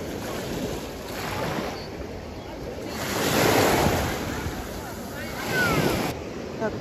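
Sea waves wash onto a sandy beach in a steady broad roar, swelling louder around the middle and again near the end, with wind noise on the microphone.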